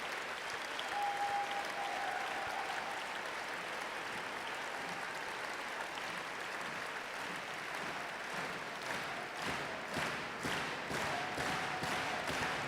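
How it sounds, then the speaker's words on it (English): A stadium crowd applauds and cheers after a final, a dense and sustained roar of clapping that fills the space from start to finish, with no voice standing out above it. "everybody's standing and clapping and cheering"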